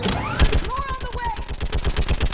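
Rapid automatic gunfire in the Mass Effect 3 video game, a steady stream of close, loud shots in quick rhythm, with a shouted voice over the top.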